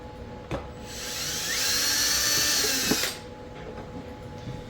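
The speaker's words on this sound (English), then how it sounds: "I'm going to drill those 2 holes out with my 1/8 inch drill bit." A small drill with a 1/8 inch bit whines steadily for a couple of seconds at close range, drilling two holes for a kayak transducer arm, with a few faint clicks and taps before and after.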